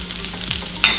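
Eggs being stirred into breakfast fried rice in a pan over low heat, a steady soft scraping and faint sizzle with a brief sharper clink near the end.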